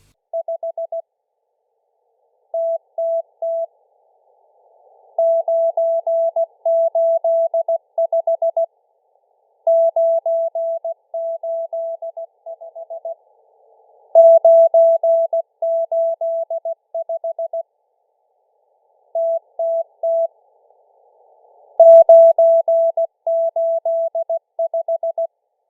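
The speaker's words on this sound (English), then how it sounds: "this is how the Russian number station M12 sounds like" The Russian M12 number station transmits Morse code as a loud, steady single-pitched tone keyed in rapid bursts and groups, separated by short silences, with nothing else heard.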